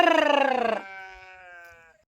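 A single close, loud sheep bleat with a strained quavering tone, followed by a fainter, steadier second call, from a flock out grazing.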